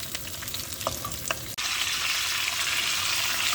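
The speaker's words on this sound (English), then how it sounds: "pork is cooking good" Pork sizzles and fries steadily in a pan on a camp stove in a van, with a few stirring clinks early on, then the frying noise jumps louder and continues.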